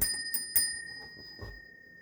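A notification bell effect for a subscribe button rings with a bright, sustained metallic tone, struck a couple of times with light taps and fading out alone.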